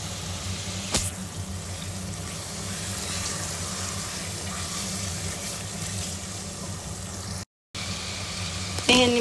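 Water trickled in while kneading berbere and onion sauce for Ethiopian doro wat, a steady tap-like running flow close by with faint handling knocks, briefly cut off near the end.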